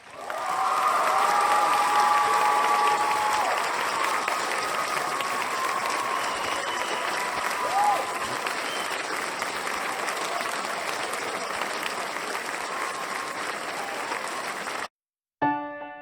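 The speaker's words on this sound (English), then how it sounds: "So a round of applause," A live lecture audience in Denver breaks into loud, dense applause that holds steady for about fifteen seconds with some whoops over it, then cuts off briefly before music starts.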